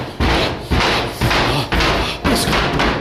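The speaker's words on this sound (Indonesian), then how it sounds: "ia melihat sebuah pintu yang tiba-tiba bergerak-gerak sendiri" A door that moves on its own inside a villa bangs repeatedly, producing five loud, close thuds roughly half a second apart, each followed by rattling noise.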